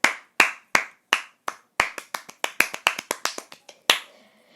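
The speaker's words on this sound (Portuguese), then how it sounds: "palmas pra essa era de ouro" Close, crisp hand claps from a single person, about twenty sharp claps in an uneven rhythm that speeds up in the middle, then ends with a final clap and a brief ring.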